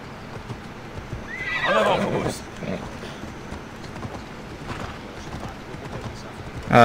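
A horse whinnies in the Assassin's Creed Odyssey video game, the neigh swelling then trailing off, amid clip-clopping hooves and game ambience; someone talks in French over it at times.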